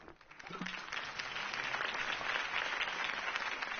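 A crowd in a Batman video game cutscene applauds Harvey Dent's campaign speech, steady muffled clapping building after a brief voice and holding at a moderate level throughout.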